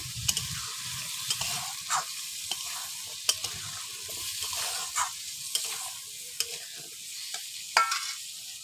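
Chilli powder, garam masala and cumin powder stirred in hot oil in a pan, a steady soft sizzle broken by a dozen or so sharp scrapes and clinks of the spoon against the pan, close by, no talk.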